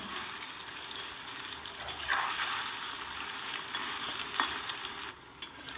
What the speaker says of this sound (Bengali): পনিরগুলোকে সব শুধু লবণ দিয়ে ভেজে নেব দেখুন ভালো করে একটু নেড়ে চেড়ে দিলাম